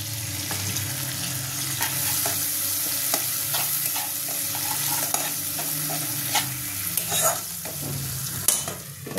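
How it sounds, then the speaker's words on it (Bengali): Ground turmeric, chili, cumin, coriander and garam masala sauté in a pan for a Bengali fish curry, a continuous close sizzle with repeated spatula scrapes and stirring, no voices. "মশলাটা আমি একটুখানি কষে নেব।"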